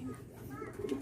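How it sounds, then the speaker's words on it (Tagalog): A racing pigeon returns home during a derby race and gives a few soft, low coos close by, over a steady background hum. "Mga kalapatids, dumating na ang ating ibon."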